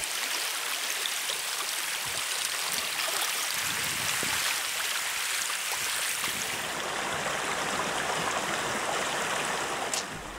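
A river stream flows steadily beside a camping spot in Indonesia, a continuous broadband rush of water with gurgling texture that stays close and even throughout, no voices.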